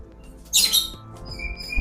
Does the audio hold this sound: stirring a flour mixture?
no